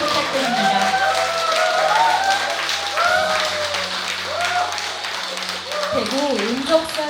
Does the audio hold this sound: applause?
yes